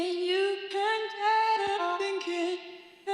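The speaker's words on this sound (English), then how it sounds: "So I started out by making a vocal chop out of her original vocal." A vocal chop cut from a song's original sung hook: short pitched vocal syllables, abruptly sliced and rearranged into a choppy, rhythmic pattern with brief gaps, heard alone and up front.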